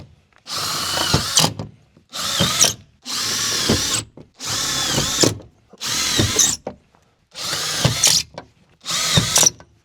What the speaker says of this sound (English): we're just going to hit 4 screws in each flange section here to make sure it's firmly attached to the rib